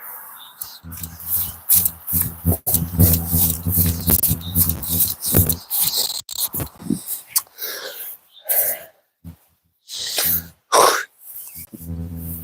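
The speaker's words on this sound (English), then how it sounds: "Having to clear my throat." A man clears his throat several times in rough, gravelly bursts, close up, with brief pauses and some low vocal noise between them.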